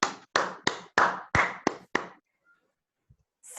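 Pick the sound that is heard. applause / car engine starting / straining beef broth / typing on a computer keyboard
applause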